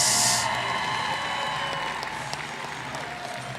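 Audience applause at a 3A North boys' basketball region tournament awards, a sustained wash of clapping from a crowd in a gym, loud at the start and tapering slightly, with a faint whistle-like tone underneath.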